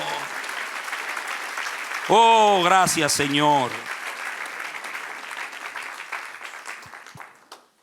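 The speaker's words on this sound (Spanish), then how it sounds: "Dale otro aplauso al que es rey." A church congregation applauds in a dense, sustained patter while someone speaks and exclaims loudly over it. The clapping gradually thins and fades toward the end.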